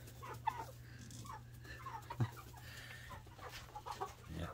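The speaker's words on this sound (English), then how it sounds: "So first this morning, we've got to feed the chickens that we have." Chickens in a pen cluck and murmur softly nearby at morning feeding, with a low steady hum underneath and a few sharper knocks.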